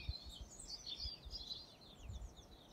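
Several small birds chirp and trill in quick, high twittering phrases, faint and somewhat distant against a quiet background, with no voices.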